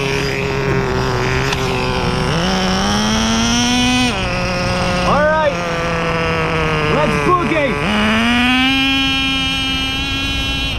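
A Thunder Tiger F-1 Formula nitro RC car with a laydown engine screams at high pitch as it drives, rising and falling with throttle changes and shifts. It stays continuous and fairly close throughout.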